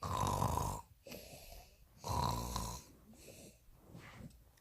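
A voice imitates loud snoring, two long rasping inhales each followed by a softer breathy exhale, close up.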